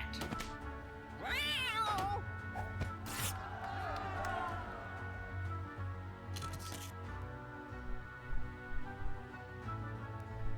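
In XCOM 2, a cat gives a rising meow and a drawn-out wavering cry, with game effects and scattered clicks under them.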